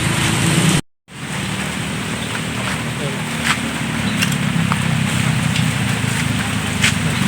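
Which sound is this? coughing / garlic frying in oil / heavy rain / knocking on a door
heavy rain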